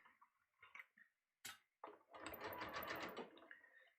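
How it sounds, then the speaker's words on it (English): A sewing machine runs a long basting stitch on a shirt, a dense whirring burst of about a second and a half after some quiet handling clicks and a sharp knock, close and moderately loud. "I'm going to put this on 5 for a stitch length because I'm just going to baste it"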